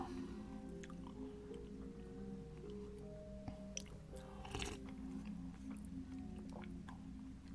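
Chewing and biting on Nissin Edo Soba instant noodles with broth and kamaboko, steady close mouth sounds with occasional crunchy clicks over a constant low background hum.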